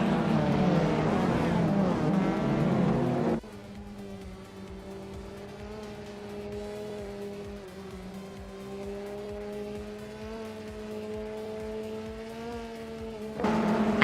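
Cars in a video game race: a loud, continuous engine drone with rising and falling pitch, tire squeal and revving at the start and end, and a steady held note in the middle.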